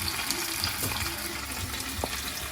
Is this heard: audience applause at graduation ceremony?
no